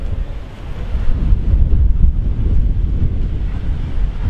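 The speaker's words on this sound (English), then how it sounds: "bear with me, it's getting a bit windy here." Strong outdoor wind buffeting the microphone at an Irish civil war centenary commemoration, a loud continuous low rumble that gusts and swells with no speech.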